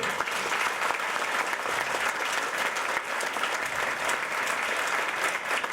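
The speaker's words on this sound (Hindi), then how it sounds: "आप लोग सब लोग ताली मारो जोर से यार." An audience of parents and children at an indoor event claps loudly and continuously, a dense, even burst of applause that lasts the whole stretch with no talk.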